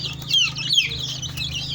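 Native Nigerian chickens cluck nearby, a few short rising clucks and squawks over a low steady hum, close and moderately loud with no talk.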